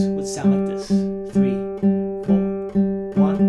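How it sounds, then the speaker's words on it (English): A classical guitar plays a Sagreras Book 1 lesson study as a run of evenly spaced plucked notes, each ringing briefly before the next, in a steady close rhythm. "16th notes would sound like this."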